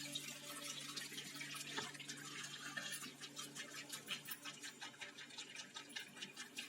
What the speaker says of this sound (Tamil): இப்போ வந்து நம்ம வடிச்சுக்கலாம்.